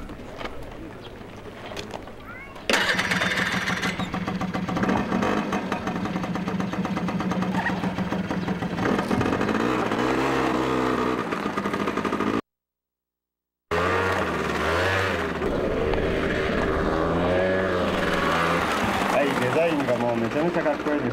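A 1983 scooter based on the Honda Lead 90 starts off and rides away at an outdoor owners' meeting, its small engine buzzing steadily and rising in pitch under continuous nearby talk, with a brief gap partway through.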